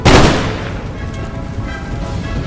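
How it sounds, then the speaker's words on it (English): A musket line volley in the Empire Total War video game: one loud, close crack of massed musket fire that booms and rumbles away into a long fading tail over battlefield noise. "so I'm gonna line up and fire"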